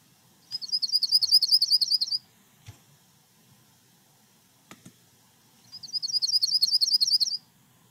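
A recording of a yellow-rumped warbler plays two bright, rapid trilled bursts of high chirps separated by a quiet gap with a couple of faint clicks, clear and close.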